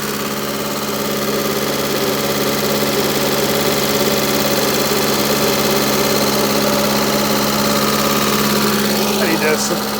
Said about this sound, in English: I'm gonna see if his AC compressor will kick on